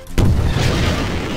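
An explosion in the video game Garry's Mod hits with a sudden, loud, close boom, then rolls into a rumbling, debris-filled decay that carries on to the end.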